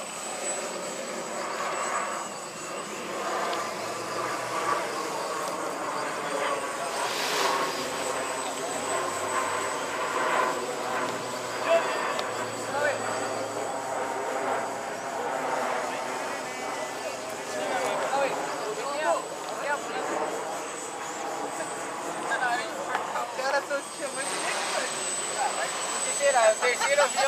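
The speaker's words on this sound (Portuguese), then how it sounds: "É o terceiro avião hoje." Airplane engine roaring steadily as it takes off from a small regional airport, a loud sustained drone across the whole stretch, with people chatting and exclaiming nearby.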